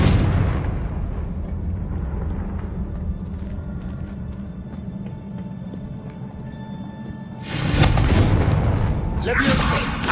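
A Confringo blasting spell goes off in Hogwarts Legacy: a loud burst of broad explosive noise near the end, with a second blast right after, over a steady game soundscape with low rumble and talk.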